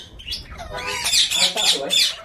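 A green parrot gives a run of shrill, harsh calls, several squawks in quick succession, close and loud, with a person talking faintly underneath.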